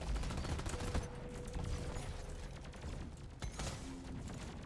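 Turret gunfire in the video game Deep Rock Galactic rattles in dense, steady bursts across the whole stretch, with busy game noise layered underneath and no voices.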